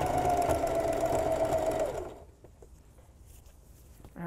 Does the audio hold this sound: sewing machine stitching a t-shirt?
yes